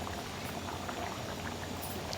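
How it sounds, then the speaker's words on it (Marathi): Stuffed brinjal curry simmers in a pan, a steady, close bubbling and gentle popping boil with no break, at moderate loudness and with no talking. "तर ऑलमोस्ट शिजत आलेलं असणार आहे. तर बघू शकता उकळी आली छान."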